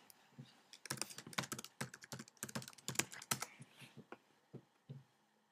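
Someone types a password on a computer keyboard: a quick run of crisp, close key clicks in uneven bursts for about five seconds, ending with a few isolated presses.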